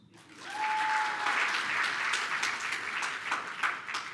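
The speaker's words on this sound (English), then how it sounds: "Round of applause." A crowd at an awards show breaks into steady applause that holds for several seconds, many hands clapping at once with a brief whoop near the start.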